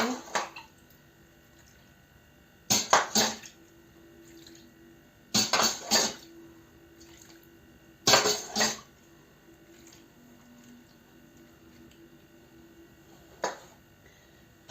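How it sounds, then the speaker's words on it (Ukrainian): Water splashes into a bucket of fermenting cucumbers in about four short pours, separated by quiet pauses, close by. "Ще трошки додавлю води."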